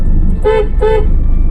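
A car horn sounds twice in quick succession, two brief honks over a steady engine rumble.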